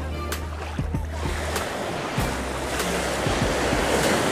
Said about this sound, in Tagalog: Hala, lakas ng alon.